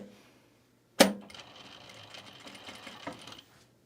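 A sewing machine stitching a garment top starts with a sharp click, then runs in a steady, fairly quiet whir for about two and a half seconds before stopping.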